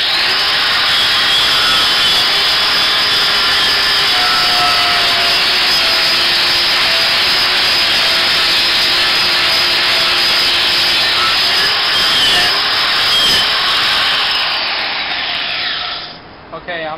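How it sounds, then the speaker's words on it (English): A motor-driven wire brush wheel scrubs steadily against a handmade knife blade, a loud continuous abrasive whir with faint scraping that runs unbroken for about sixteen seconds before the grinding stops. "when you're using a wire brush like this, these tiny little wires will actually break off"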